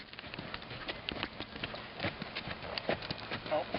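A horse's hooves clop in a quick, rhythmic canter beat during a riding lesson, heard at middle distance while an instructor talks over them for much of the time.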